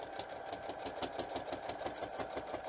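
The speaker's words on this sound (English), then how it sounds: "We're sewing in the ditch." A sewing machine stitches in the ditch along a quilt's binding, running at a steady, even pace with a continuous rapid mechanical hum and chatter close by, no talking.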